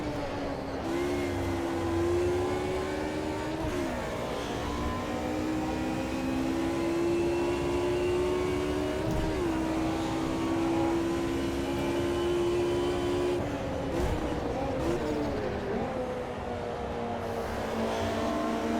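Mercedes 190E Group A race car in Automobilista 2 at Watkins Glen, engine holding a steady high drone with brief pitch dips as it slides sideways out of control and is gathered up, loud and constant.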